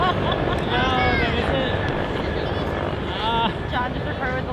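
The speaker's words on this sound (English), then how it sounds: "I literally just missed recording a fleet of helicopters because I had the lens cap on" A fleet of helicopters flies overhead, a continuous broad rotor roar on a Fourth of July outing, with people talking over the noise throughout.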